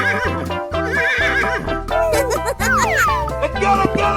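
Cartoonish horse neighs and whinnies ring out repeatedly in a 3D animal slide video game, layered over bright game music and sound effects.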